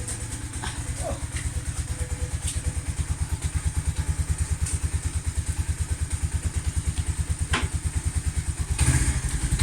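A Lexmoto motorcycle idles after a cold start with a steady, rapid thumping putter close by. A brief louder burst comes near the end, and faint voices can be heard in the background.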